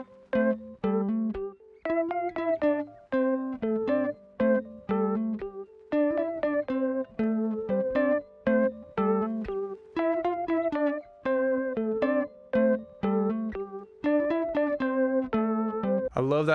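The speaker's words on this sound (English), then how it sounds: "So it's 2 keyboards and a guitar, and it sounds like this." Two keyboards and a guitar play together in a bright, repeating melodic lick of short plucked and keyed notes in steady phrases, clean and close with brief gaps between figures and no talking.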